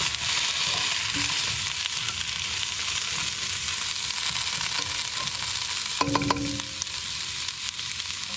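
Shallots being stirred in a Remoska pan inside a motorhome, a spoon scraping and shuffling them through a steady soft sizzle, with a brief sharper clatter near the end.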